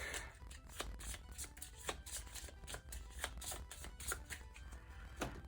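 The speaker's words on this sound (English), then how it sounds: "Shuffle this up real quick." Cards for the Power Rangers Heroes of the Grid board game are shuffled by hand in a run of soft, rapid riffling bursts, close up and quiet, with no talking.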